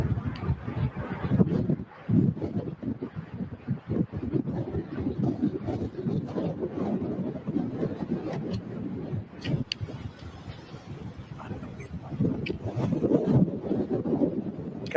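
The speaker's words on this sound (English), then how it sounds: "It's gonna get really windy though." Gusty wind near an EF4 tornado buffets the microphone throughout, a rough continuous roar rising and falling in strength with occasional rattles.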